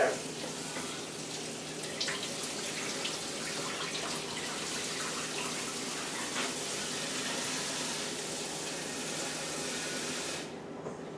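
Ingredients for homemade dill pickle relish being given a quick rinse under a running kitchen tap, a steady moderate splashing water flow that continues for most of the clip before stopping abruptly near the end.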